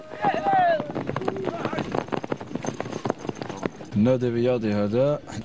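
Horses being ridden at a fantasia equestrian club give off a quick, irregular run of hoof clip-clops, partly overlapping a voice, before a horse's loud whinny rises near the end.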